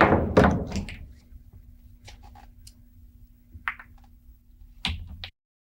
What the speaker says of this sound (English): Hitting the 1 ball with a high right masse, having the cue ball spin around the triangle here, going down to make the 8-9 combination.